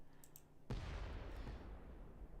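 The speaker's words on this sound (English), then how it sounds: "Sounded like an explosion." A sudden loud explosion in the video game White Wolf of Icicle Creek bursts in after a quiet moment and trails off into a sustained rumbling roar.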